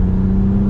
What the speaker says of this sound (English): you hear a little bit more exhaust tone